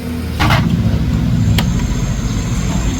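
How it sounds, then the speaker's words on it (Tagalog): A poorly maintained Yamaha Sniper 155 motorcycle engine runs noisily up close, a steady low rumbling drone with a faint mechanical whine, and no talking. "Kaya maingay yung makina."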